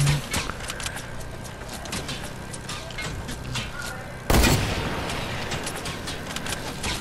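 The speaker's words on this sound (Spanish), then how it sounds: "No sé de dónde eran esos disparos, por dicha no me dieron." Gunfire in a shooting video game rattles in a dense, continuous burst with a loud sharp blast partway through, followed by sustained noisy crackle.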